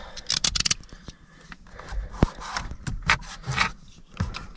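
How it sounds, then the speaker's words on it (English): A knife slices across a strip of duct tape stuck behind the steering wheel of a 2013 Hyundai Veloster, with a few quick close scraping and rubbing sounds, some sharp ticks and tape handling noises. "just straight across with your knife"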